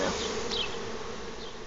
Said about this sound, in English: you've got a few free-range bees on the outside of them